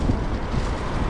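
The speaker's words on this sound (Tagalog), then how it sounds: "Medyo mahangin." Wind buffets the microphone in a constant low roar, steady and close, with no other sounds standing out.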